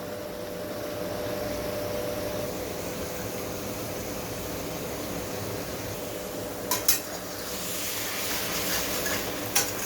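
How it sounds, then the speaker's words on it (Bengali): Spice paste with Kashmiri chili fries in oil in a pan for a potato and pointed gourd poppy-seed dish, giving a steady low sizzle with a few sharp spatula scrapes and clinks near the end. "মশলা থেকে তেলটা না ছাড়া যেটা কষিয়ে যেতে হবে"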